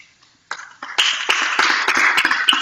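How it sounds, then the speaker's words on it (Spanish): A church congregation breaks into applause after near silence, clapping swelling quickly from a few hands to a full, steady burst of many people in the hall. "Si quiere, bríndele un fuerte aplauso a Jesús"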